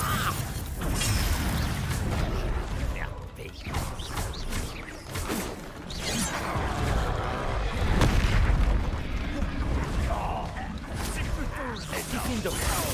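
Confringo explosive spell in the video game Hogwarts Legacy, heavy booms and crashing impacts amid continuous loud combat clatter, with a surge of rumbling near the eight-second mark.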